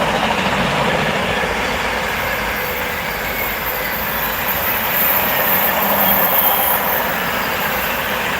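Freight container train passing on the West Coast Main Line, a steady loud rumble of wagons rolling by with a faint wheel squeal, continuous and close.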